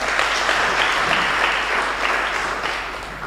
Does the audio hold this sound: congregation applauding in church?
yes